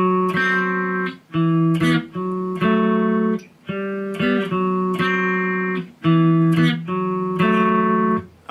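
Guitar chords ring out in a steady strummed pattern, close and clear, played alone without singing: the verse of a song.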